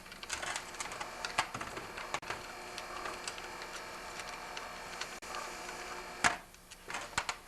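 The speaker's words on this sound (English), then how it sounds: "So now I'm just going to remove the remaining bolts here." Bolts being taken out of a snowblower auger gear case give a run of small clicks, ticks and light metallic taps at close range. One sharper knock comes near the end, and nobody speaks.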